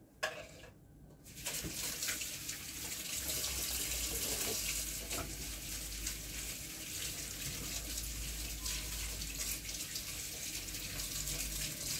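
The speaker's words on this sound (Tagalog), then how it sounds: "Magugas lang ako ng kamay ko." A tap starts running and hands are washed under it, giving a steady, close splashing rush of water that continues to the end.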